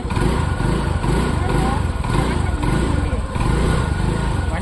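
A motorcycle that has just started but will not move forward runs close by, a loud steady chugging idle with a regular pulsing rhythm throughout.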